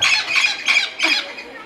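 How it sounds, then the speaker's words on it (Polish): A parrot in a palm house squawks loudly and close by, four harsh, evenly spaced calls in quick succession. "Papuga właśnie przed chwilą się odezwała."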